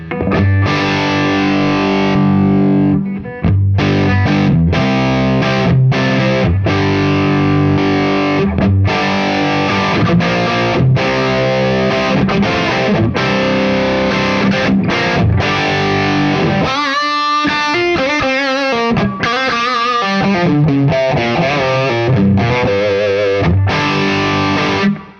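Electric guitar pushed through stacked pedal distortion into a cranked non-master-volume amp, playing heavily saturated chords and sustained notes with a short pause and a trilled passage midway, loud and close with no talking.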